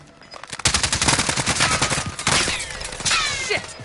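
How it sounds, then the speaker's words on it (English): Rapid automatic gunfire in the video game Call of Duty Modern Warfare, dense bursts of crackling shots that go on for nearly four seconds, loud and close with overlapping reports. "I'm taking fire!"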